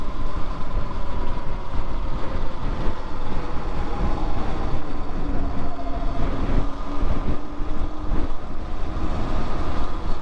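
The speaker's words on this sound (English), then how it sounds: "The wind has definitely picked up over here." Wind gusting against the microphone while riding electric SurRon bikes and electric unicycles around Berkeley, a steady loud rumbling buffet that lasts throughout with faint vehicle noise and no talking.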